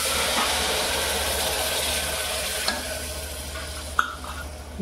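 Cooked dal hits hot oil spiced with cumin and masala, giving a steady loud sizzle with a few clinks and scrapes from stirring, and no voices.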